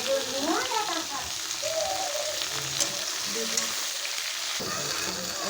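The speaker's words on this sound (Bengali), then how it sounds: "একসঙ্গে আলু উচ্ছে ভাজা হয়ে যাবে মাছের জন্য" Potatoes and bitter gourd frying together in hot oil in a home kitchen, a steady close sizzle with occasional stirring, briefly under a few words of speech.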